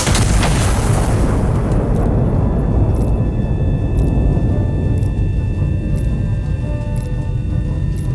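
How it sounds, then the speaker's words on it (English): An artillery gun fires in Iron Nest: one huge, loud boom right at the start, then a long rumbling decay with faint mechanical clicks and tones ringing on behind it. "Gun is armed. Fire!"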